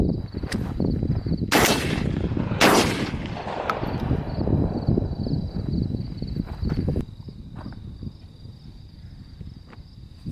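Two sharp .30-06 rifle reports from a Remington 770 bolt-action hunting rifle fired outdoors in quick succession, each loud crack followed by a rolling echo, then quieter ambient rustling and a steady insect-like whine in the background.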